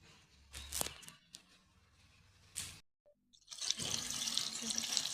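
Tap water runs and splashes as chakvat greens and mixed lentils are rinsed clean, with intermittent clatter and pauses before a steadier stream of running water at the end.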